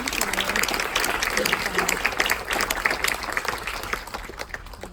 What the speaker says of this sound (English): Should we have one more mini round of applause?